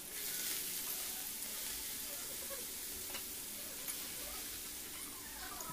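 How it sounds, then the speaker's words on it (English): Chopped onion fries in oil on a stove, producing a faint, steady sizzle with light crackles and occasional soft stirring taps, no voices. "fry it for 1 minute."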